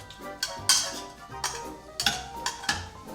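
Seasoned shrimp being stirred with garlic salt and lime juice in a bowl give off a handful of light, irregular clinks and taps of utensil against dish, close and fairly quiet, with no voices.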